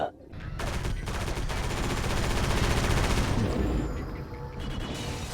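Rapid, continuous video game gunfire in Area 51 rattles loudly in dense bursts for several seconds, then tapers off into quieter shots.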